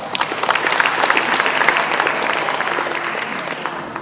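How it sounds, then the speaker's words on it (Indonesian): An audience at a public lecture claps in a lively round of applause, crisp individual claps standing out in a thick patter that runs for about four seconds and slowly thins toward the end. "Tepuk tangan untuk sang elang."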